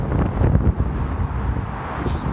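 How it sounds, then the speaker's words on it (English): Distant motorway traffic beside a town, a continuous broadband roar with steady rumble and wind buffeting the microphone, no voices. "the noise I could hear before in the town is actually a genuine, bona fide motorway"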